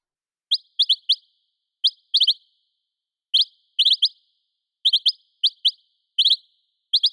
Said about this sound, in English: there we've got a reasonably realistic goldfinch sound